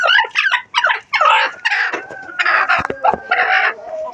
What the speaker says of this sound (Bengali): আমার একটি কুইচা মুরগি আছে